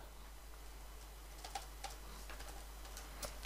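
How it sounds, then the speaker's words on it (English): Someone types on a computer keyboard, faint scattered key clicks with soft irregular taps building slightly toward a sharper final click. "So I'll just type in"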